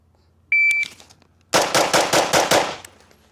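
Gunshots on a shooting range, a rapid string of about six loud, close reports in quick succession, preceded by a short electronic beep from a shot timer.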